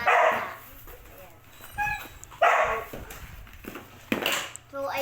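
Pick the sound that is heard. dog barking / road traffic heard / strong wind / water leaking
dog barking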